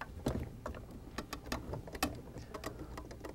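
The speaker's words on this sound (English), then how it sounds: "Using either a 7/16 nut driver, ratchet, or slotted screwdriver," A ratchet or nut driver loosens the drive assembly screws on a Fleck 2850S commercial water softener control valve, giving faint, close, irregular metallic clicks and ticks.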